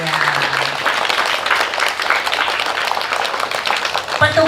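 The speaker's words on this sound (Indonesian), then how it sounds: "kalian tolong beri tepuk tangan untuk petugas hari ini" Elementary school students at an outdoor flag ceremony for Pancasila Day applaud the ceremony officers, steady loud massed clapping throughout with a voice briefly audible at the start and end.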